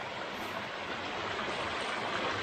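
Water flows steadily through a reservoir channel, spilling over the sides and channeling down the middle, a dense continuous rushing wash heard close and alone.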